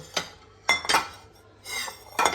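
Salt bowls and a small black plate being picked up and set down, giving a few close, light ceramic clinks and knocks spaced out over a couple of seconds with no talk.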